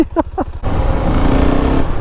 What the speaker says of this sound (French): Alors, le bruit. Oh là là. Ça claque, j'adore ça. J'adore le mono, c'est mon moteur préféré.